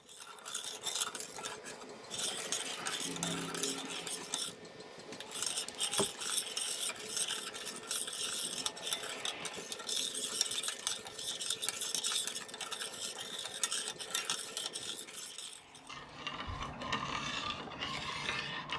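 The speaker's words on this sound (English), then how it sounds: "So we're going to heat this up on high and we'll just stir it up" A spoon scrapes and swirls steadily through herbal syrup heating on high in a pot. The rasping stirring runs continuously, close and fairly quiet, with no voices.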